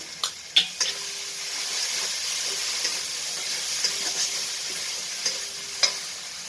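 Ground spice paste and fennel seeds are stirred in a pan for a rohu fish curry: a soft, constant hiss with a few crisp taps of a spoon against the pan, close and unhurried, with no talking.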